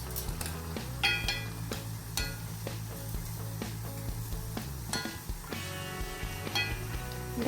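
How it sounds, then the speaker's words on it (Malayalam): Poricha pathiri, a Malabar snack, deep-frying in oil, a steady sizzle and bubbling under frequent metallic clinks and scrapes of a utensil against the pan. "ഇതുപോലത്തെ ബ്രൗൺ കളർ ആവണ വരെ നമുക്ക് ഫ്രൈ ചെയ്തെടുക്കാം."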